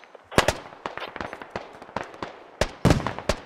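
In the SquadOps video game, a burst of sharp gunfire and explosive cracks from a combat firefight lands in an irregular, close, loud sequence with several louder bangs near the end.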